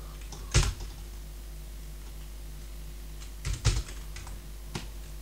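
Keys on a computer keyboard are typed in a few short, quiet bursts of clicks, entering an Ubuntu sudo upgrade command, with near-silence between them.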